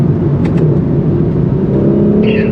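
Acura NSX Type S engine pulling under throttle, a loud steady close-up drone with a strong low hum and a faint whine near the end.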